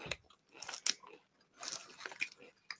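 Crunchy pickle-flavored snack with mustard being bitten and chewed close up, a few bursts of crisp crunching separated by short pauses, with brief murmurs between bites.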